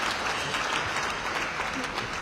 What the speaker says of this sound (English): You're clapping for me, Ayaja.